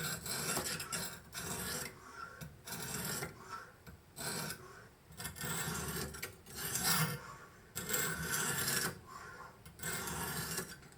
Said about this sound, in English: just found the perfect angle, and now I slowly start to sharpen.